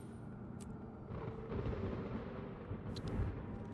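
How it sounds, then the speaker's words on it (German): Thunder rumbling during a thunderstorm in the video game Guild Wars 2, a low rolling roar that swells around the middle and peaks again near the end, steady and moderately loud with no talking. "Gewittert. Das klingt nicht schön."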